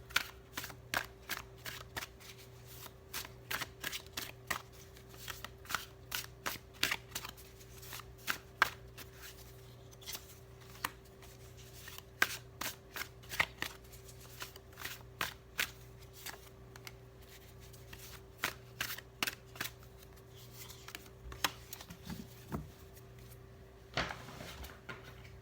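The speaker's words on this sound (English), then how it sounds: "So I'm gonna focus on shuffling these cards." Tarot cards are shuffled over and over, a steady run of crisp, quick riffling clicks, close and fairly quiet, with a faint hum underneath.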